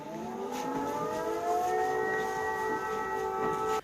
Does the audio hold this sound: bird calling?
no